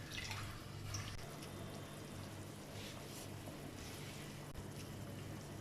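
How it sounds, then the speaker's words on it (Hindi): Water at a rolling boil in a cooking pot for beef yakhni pulao, a steady, close, bubbling hiss with a faint low hum underneath and no voices. "पानी में उबाल आ चुका है।"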